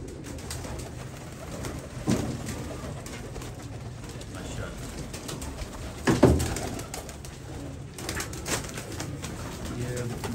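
Royal Teddy pigeons in a breeding setup cooing, low soft coos repeating over steady background noise, with a louder burst of cooing around the middle and someone talking throughout.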